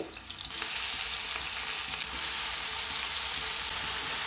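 Green chilies and onion fry in hot oil for a curry, a loud, dense sizzle that jumps up sharply as the ingredients hit the pan and then holds steady close by, with no talking.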